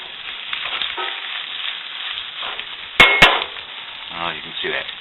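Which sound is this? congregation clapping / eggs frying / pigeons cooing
eggs frying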